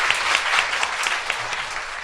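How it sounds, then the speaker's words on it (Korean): A live audience at a Korean talk show breaks into thick, continuous applause, many hands clapping at a steady level for a couple of seconds. "박수 한번 주세요."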